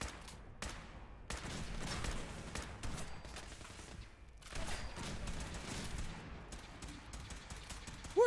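Gunfire crackles in a Fallout 4 firefight while storming the Institute, repeated bursts and volleys of shots with short pauses between them, moderately loud against a busy game background.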